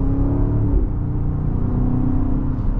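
A 2024 BMW X5 M60i accelerating hard in sport mode, its engine giving a loud, continuous low rumble with rising harmonic drone, heard from inside the cabin.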